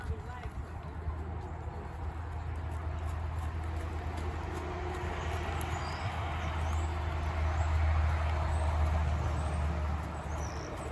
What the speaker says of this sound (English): traffic noise didn't seem to bother him